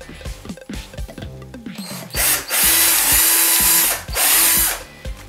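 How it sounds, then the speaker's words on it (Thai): A small drill bit bores into a marked spot: a few short ratcheting clicks as the power drill is set, then two loud, sustained bursts of whining drilling close by, with no talking. "แล้วผมก็จะใช้สว่านดอกเล็กนะครับเจาะตรงที่ผมมาร์คเอาไว"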